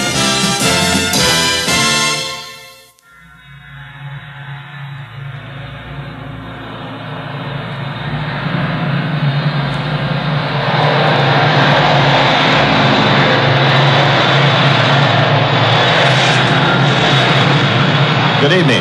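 A private airplane carrying a rock band arrives at the 1974 California Jam, its engine roar building steadily from a distance to a loud, sustained drone after music cuts off, with someone talking over it.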